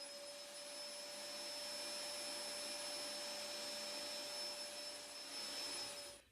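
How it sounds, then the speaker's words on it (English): A broken vacuum cleaner in a lab setting drones with a steady, close, high whine and faint tonal hum, then cuts out abruptly at the end. "the vacuum cleaner appears to be broken and it keeps cutting out"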